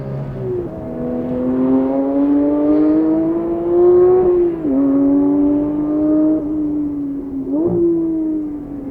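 Porsche 992 GT3 Touring engine pulling hard from second gear, a high-revving wail climbing steadily, then two quick breaks at gear changes before the pitch climbs again, loud and close from inside the car.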